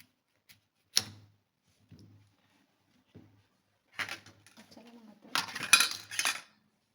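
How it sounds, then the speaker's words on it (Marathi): A knife cutting pumpkin into small pieces, heard as a few sharp, sparse chops and clicks on a board with quiet gaps, ending in a quicker cluster of cuts. "कापल्यानंतर त्याला डांगराचे छोटे छोटे तुकडे करायचे"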